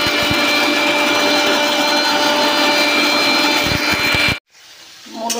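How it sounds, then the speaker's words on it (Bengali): Mustard seeds being ground in an electric grinder, a loud steady whirring roar that runs for about four seconds and then cuts off abruptly, leaving quiet room sound. "সর্ষেটাকে বেটে নিচ্ছি।"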